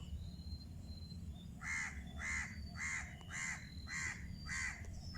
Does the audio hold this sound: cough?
no